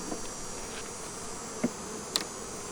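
Honey bees drone steadily at a weak hive during an inspection, with a couple of brief, sharper buzzes of single bees passing close amid the constant background hum.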